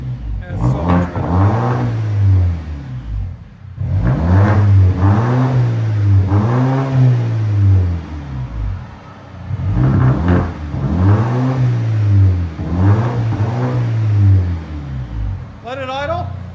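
A 2019 Volvo S60 T6 2.0-litre turbo with its muffler and resonator deleted revs repeatedly, three loud rising-and-falling engine swells with idle dips between them, while people speak nearby.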